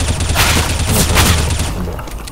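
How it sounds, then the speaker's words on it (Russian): Continuous gunfire from a CS:GO match, a dense loud fusillade of overlapping shots with booming impacts that eases off slightly toward the end. "Там кто-то еще стреляет"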